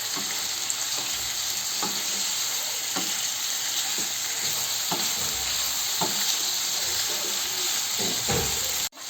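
Chicken breast frying in a pan, a dense continuous sizzle with regular spatula scrapes about once a second, close and loud throughout with no voices.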